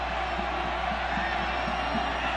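A college football stadium crowd at Kansas State versus Colorado in 1998 gives a dense, steady roar of cheering, far off and broad, with commentators talking over it.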